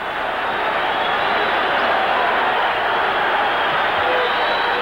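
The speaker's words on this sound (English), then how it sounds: "They're whistling and screaming, and they're punching upstairs." A packed boxing crowd at the 1964 Giardello–Carter fight keeps up a loud, continuous roar of cheering, screaming and whistling that holds steady for several seconds with no break.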